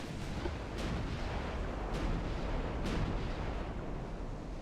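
Battleship guns firing in the naval game Ultimate Admiral: Dreadnoughts, a few distant booms rising out of a constant loud rumbling roar of ocean and battle noise.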